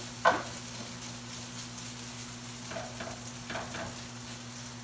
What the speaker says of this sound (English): while we're getting the soy chorizo browned a little bit